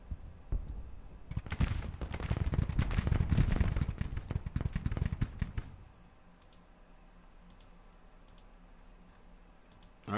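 Artillery and musket fire in the Civil War strategy game Grand Tactician: a dense crackling barrage of rapid overlapping shots for several seconds, then thinning to scattered faint pops over a quiet background.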